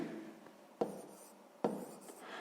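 Faint pen or pencil scratching while numbers are written by hand in a sixth-grade math exercise, soft rubbing strokes with two sharper taps, close and quiet.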